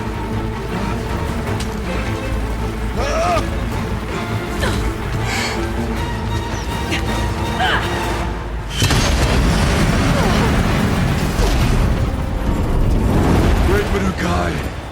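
Explosive ammo blasts in Horizon Zero Dawn's Frozen Wilds, booming detonations over rumbling combat noise and music, growing louder and denser partway through as the fight intensifies.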